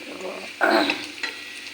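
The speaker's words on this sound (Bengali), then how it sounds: "পেঁয়াজটা ভাজা ভাজা হয়ে গেছে একটা লং এলাচি দারচিনি দিয়ে" Onions already fried crisp in a pan sizzle as whole cloves, cardamom and cinnamon go in for semolina pulao, a short soft crackle with a brief louder stir and clink mid-way.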